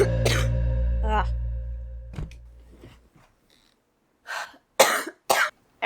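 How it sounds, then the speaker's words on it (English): Several hoarse, close coughs in a quick cluster at the start, fading into quieter breathy throat sounds, then a short silence before a few more sharp coughs near the end. "I can't stop coughing"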